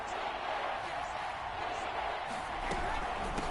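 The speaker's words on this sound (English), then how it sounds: "That just means this crowd's going to get even louder" A large football stadium crowd roars in a steady, dense wall of noise that swells slightly toward the end, with bursts of shouting and cheering throughout.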